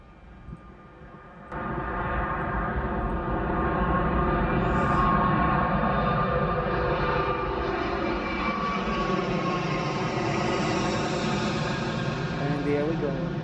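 An Airbus A380 airliner takes off from runway threshold 17, with a loud continuous jet engine roar that swells sharply after a quieter opening and holds steady at close range.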